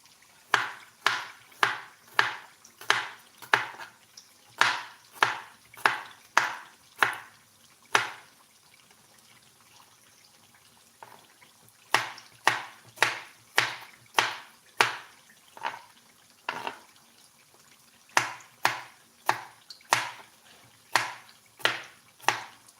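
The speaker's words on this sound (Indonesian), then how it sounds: "Bawangnya diiris-iris dulu" A knife slicing garlic on a cutting board in a home kitchen: a run of crisp, evenly spaced chops, a short pause, then another steady run of cuts, close and clear.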